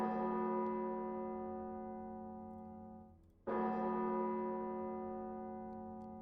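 A distant bell tolls at noon, two deep resonant strikes whose long humming tails slowly fade, the second rung about three and a half seconds after the first.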